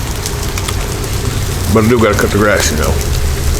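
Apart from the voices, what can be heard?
rain falling on covered deck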